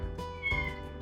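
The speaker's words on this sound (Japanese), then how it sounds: "短い声で呼びかけるニャーゴ。" A rescued former stray cat gives a short, friendly greeting meow, a close, clear tonal call lasting about a second with no other sound around it.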